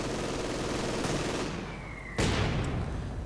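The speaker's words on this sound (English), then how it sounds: "More mortar fire." Mortar and gunfire from the World War II strategy game Company of Heroes 2, a steady battlefield din with a sharp, loud blast about two seconds in and its noisy tail continuing afterward.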